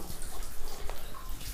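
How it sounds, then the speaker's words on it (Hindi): Water pours steadily from a stone cow-mouth spout onto a Shiva lingam at Ranthambore Fort, a continuous close splashing and gurgling with no talk. "यहाँ पे गोमुख से पानी शिवलिंग के ऊपर गिरता है"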